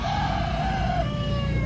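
White Kelso chickens on a farm, a close rooster crow held steadily for about a second over a dense background of clucking fowl.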